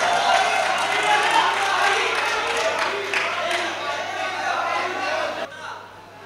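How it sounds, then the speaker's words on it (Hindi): Dense crowd applause at a poetry mushaira in Malegaon, a sustained broad wash of many hands clapping that holds steady before cutting off abruptly near the end. "तालियां बजाए जरा पुरजोर"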